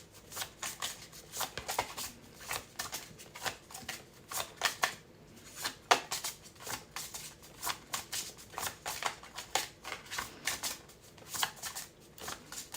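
Tarot cards are shuffled close to the microphone in a quiet room, giving soft repeated riffling and flicking bursts in an uneven rhythm with no talking.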